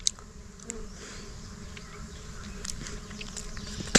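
Stingless bees swarm around a wild honey nest, a steady close buzzing hum with individual insects passing near, a few small taps and clicks, no talking.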